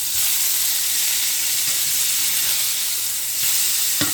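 A fish fillet frying in hot oil for Italian piccata gives a loud, steady sizzle with a crackle as it is flipped in the pan, and a sharper burst of spatter near the end.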